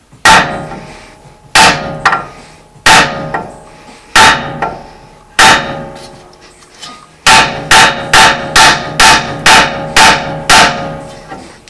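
A heavy hammer strikes a steering knuckle on a Toyota front end repeatedly, loud sharp metal blows with ringing decay: a few spaced hits, then a quick run of rapid strikes.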